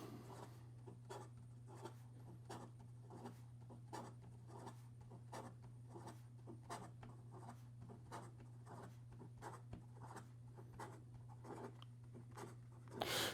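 Quick handwriting with a Leonardo Momento Magico fountain pen, a soft scratchy nib rasping across paper in rapid, regular strokes, very close and quiet over a low steady hum, with no voices.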